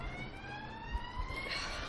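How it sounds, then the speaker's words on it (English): A police car siren wails in the distance, a steady rising tone drifting over outdoor wind noise on a hilltop, with a couple of faint thumps. "but we've got a police car now"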